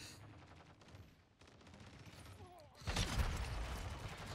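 Sniper rifle headshots from an SA-B 50 in a first-person shooter video game, a loud burst of gunfire and impacts erupting near the end after quieter game ambience, with a voice briefly in the mix.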